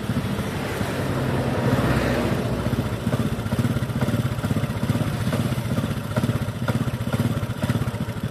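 A Honda Win motorcycle engine runs close by with a steady, busy thrum as it is shifted into gear, its pulses holding at a fairly even pace throughout.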